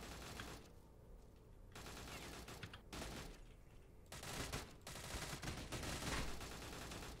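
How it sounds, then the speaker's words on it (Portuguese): Heavy gunfire in a Russian copy of Minecraft, rapid overlapping bursts and volleys with brief lulls between them, loud and continuous. "Tiro, tiro! Tiro, muito tiro!"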